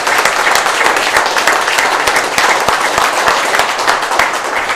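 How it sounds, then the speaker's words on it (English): An audience at a Golden Gloves tournament event breaks into dense, loud applause, continuous rapid clapping from a large crowd that holds steady throughout. "So I think Niamh deserves an absolute amazing round of applause."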